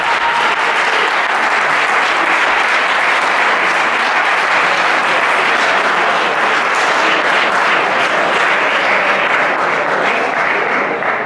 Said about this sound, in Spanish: Porque, bueno, voy a pedir también un fuerte aplauso para Iñaki Aumendi, que ya está por aquí.